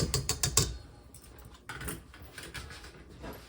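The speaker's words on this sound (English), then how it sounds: "Now I'll whisk that up just a little bit to combine it." A whisk clicks and scrapes around a bowl as zucchini cake ingredients are combined, with a quick burst of rhythmic strokes at first, then softer, irregular stirring nearby.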